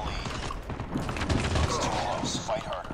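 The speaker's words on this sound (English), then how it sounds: "Oh my god, it's using shotgun." Shotgun fire and a rapid fusillade of other gunfire in Call of Duty: Mobile, dense and continuous at moderate loudness, with a player's voice talking over the game sounds.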